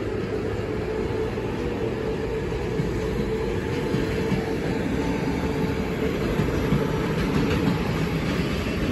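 Polish EP08 electric locomotive departing with a TLK passenger train bound for Świnoujście, a steady close rumble of rolling stock and wheels that holds evenly throughout with no talk.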